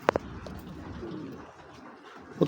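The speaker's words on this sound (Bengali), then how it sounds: "এটা মাদি কবুতর" Racing pigeons coo at a breeding farm, low murmuring calls running steadily in the background with a few sharper nearby notes at the start and end.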